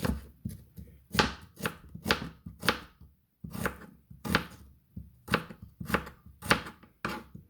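Onions are chopped on a board for a Thai pork sausage salad, with a brisk series of sharp, close knife taps in uneven bursts and one brief pause, no talk.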